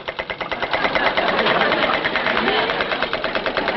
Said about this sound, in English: I rushed to the bridge, manned the machine gun, and began firing at the enemy aircraft.